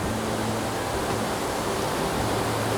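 A waterfall in the Oregon Cascades gives off a steady, even rushing hiss, full and unbroken throughout, with no voices.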